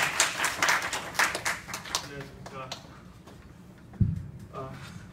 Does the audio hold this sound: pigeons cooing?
no